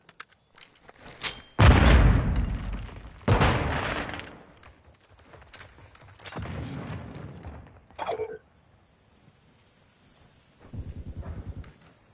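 A grenade explodes in the Call of Duty game with heavy close booms, followed by several more bursts and gunfire-like cracks separated by quiet gaps, with no talk over them.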